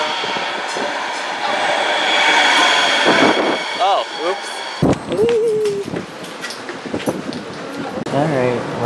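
Rumbling light rail car noise with a steady broadband roar, brief tonal squeals and people talking over the ride.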